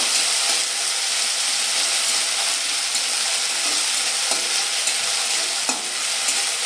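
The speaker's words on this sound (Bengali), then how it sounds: "এই পেস্টটা আমি এবার তেলের মধ্যে দিয়ে দিচ্ছি। দিয়ে এটা ভালোভাবে আমি 1 মিনিট ভেজে নেব।" Mustard paste frying in hot oil for Bengali shukto: a steady, dense sizzle and hiss running unbroken, with faint scrapes of stirring now and then and no voices.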